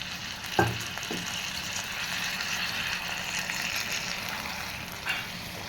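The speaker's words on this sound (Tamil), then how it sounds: "தண்ணி சேர்த்துக்கிறேன்" Potato masala frying in a pan while water is poured in, a steady close sizzle with a couple of brief splashy bursts near the start and another near the end.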